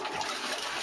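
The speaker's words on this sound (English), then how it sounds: "When you flush the toilet." A toilet flushing, with a brief, steady broadband rush of water.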